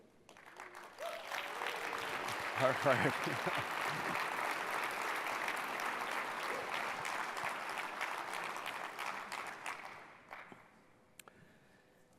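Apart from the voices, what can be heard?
audience applause for award winners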